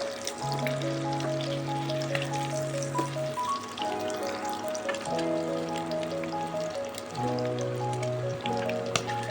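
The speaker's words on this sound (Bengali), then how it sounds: "তাই ভেজে নিচ্ছি।" Chicken pakora frying in hot oil gives a continuous crackling sizzle, moderately loud and steady, beneath background music.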